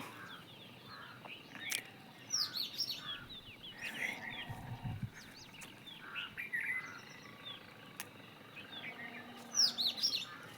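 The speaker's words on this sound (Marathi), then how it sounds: "इथं दोन तीन कावळे आलेत कमीत कमी सकाळी पाच पक्ष्यांचं तरी आवाज येतो" Several birds, including two or three crows, call and chirp at a distance in the morning, short tweets and harsher caws scattered over a quiet outdoor background.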